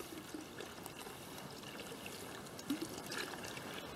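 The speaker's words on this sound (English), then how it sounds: "we're pouring some water into the upper basin." Water trickling into an upper basin of a rock mortar, a faint steady dribbling and splashing against stone with a couple of slightly louder splashes, low and unaccompanied by speech.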